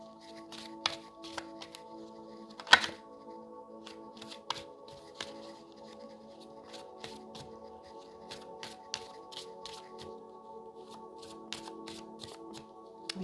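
Tarot cards being shuffled and drawn by hand, with repeated soft slaps, riffles and flicks scattered over a quiet background, one sharper card snap standing out early on.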